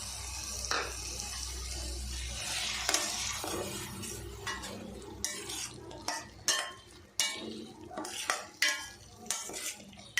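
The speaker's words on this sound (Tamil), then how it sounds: "கொண்டக்கடலை மசாலாவோட நல்லா வதக்கி விட்டுறேன்" Chickpeas sautéing with ground masala in a pan, a soft sizzle under repeated close scrapes and clacks of a spoon against the metal, quickening into rhythmic stirring strokes.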